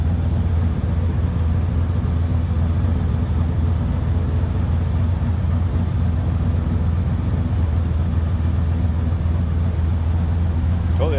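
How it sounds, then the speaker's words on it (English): A 1972 Chevrolet Malibu convertible rumbles low and steady through its dual exhaust, a constant deep drone heard up close with no change in pace and no speech over it. "A little rumble coming out of the dual exhaust."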